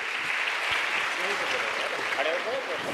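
A crowd at a Sanatan Hindu convention claps to welcome a Mahamandaleshwar to the stage, a steady wash of applause with a voice faintly audible beneath it.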